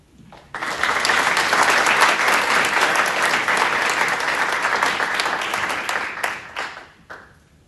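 Dense applause at a college commitment night honoring a coach, starting abruptly and holding steady for about six seconds before thinning out and tapering to a few scattered claps.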